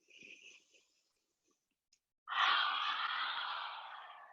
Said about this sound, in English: Take a deep breath in. Open the mouth.